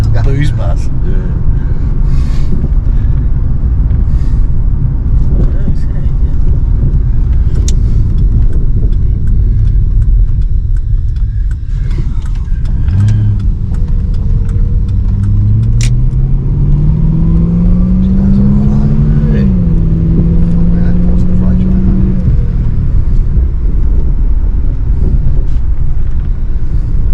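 Ford AU Fairlane with a Windsor V8 driving, a steady low engine drone with a rising rev and gear changes partway through, people chatting over it inside the car.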